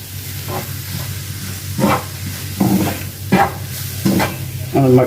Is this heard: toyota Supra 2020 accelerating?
no